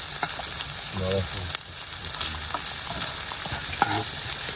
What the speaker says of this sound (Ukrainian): ріжемо далі наші ковбаски і будемо далі робити зажарку